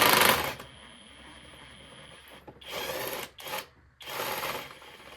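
A stubby impact wrench loosens cylinder head bolts on a 5.7 Hemi engine. It gives several short whirring, rattling bursts separated by quiet gaps, close by.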